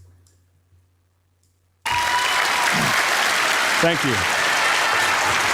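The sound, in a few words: people clapping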